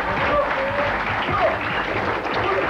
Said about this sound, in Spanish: Un aplauso a Martita Sanz.